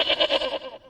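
A goat bleats in a single wavering, nasal cry of about a second, pulsing and tapering off at the end, fairly near and without talk over it.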